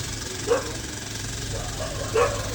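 Two single barks come from dogs near an animal shelter, aimed at a woman on a scooter, with a quiet gap between them and a steady outdoor background throughout.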